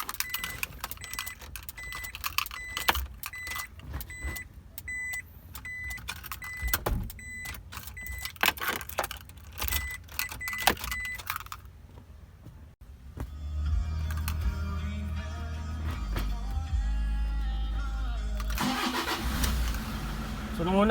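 A Toyota Innova engine cranks and catches about midway, then settles into a steady low idle rumble. Before that come scattered clicks and handling noises inside the car.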